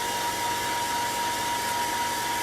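Steady wind blowing outdoors, a loud continuous broadband rush with no pauses or gusting breaks, filling the whole moment without any voices.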